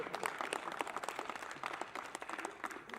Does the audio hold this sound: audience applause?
yes